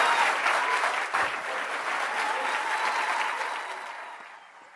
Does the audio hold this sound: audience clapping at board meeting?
yes